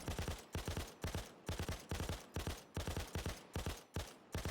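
KSP light machine gun firing in Payday 2, unsuppressed, in repeated rapid bursts with short gaps, each shot punchy and close, no talking over it.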